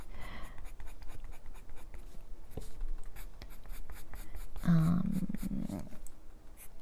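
Soft-core colored pencils scratch steadily across the paper of a Chinese coloring book page in close, repeated light strokes, with someone talking over much of the coloring.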